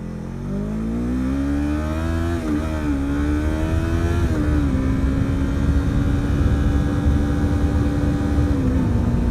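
A motorcycle engine rises in pitch as the rider speeds up along a road, the steady close drone climbing and settling through gear changes with wind rush underneath.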